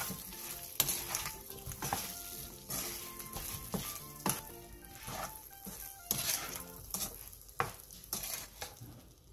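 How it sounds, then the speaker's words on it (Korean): Cheongyang chili and sesame seeds are stirred into a sizzling pan of braised baby potatoes. Steady frying sizzle lies under repeated scraping and stirring strokes close by. "청양고추와 통깨를 넣고 가볍게 뒤적여 마무리해주세요"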